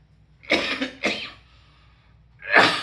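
Two sharp coughs close together, then a short pause and a third harsher cough, loud and close.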